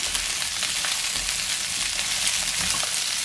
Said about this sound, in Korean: 떡을 같이 볶아요, 이렇게.